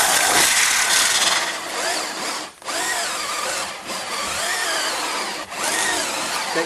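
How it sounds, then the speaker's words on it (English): A power drill fitted with a hole saw cuts through a PAX tire wheel in loud, close, grinding runs, briefly easing off twice before biting in again, with no talking. "Take my hole saw."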